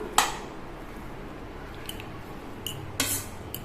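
Metal clinks from a pressure cooker lid being closed over rice pulav: one sharp clank near the start, then a few lighter metallic taps and a louder clatter, all close by with no talk.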